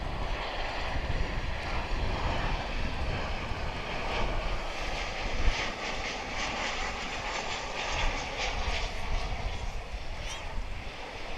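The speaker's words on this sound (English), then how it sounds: "387 American Airlines. This will be a 737-800." An American Airlines Boeing 737-800 at DFW International Airport makes a sustained, loud jet roar with a dense, rushing texture that stays steady from start to finish, with no one speaking over it.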